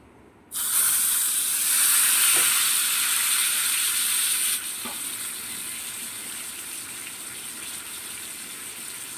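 Steamed pieces of homemade tandoori chicken hit a hot pan and burst into loud, hissing sizzling. After a few seconds the frying settles into a steadier, quieter crackle that carries on to the end.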